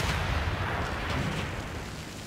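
Units in the video game Civilization VI bombard a city, heard as a sustained rumbling blast of artillery-like fire that holds steady and then fades slightly over a couple of seconds.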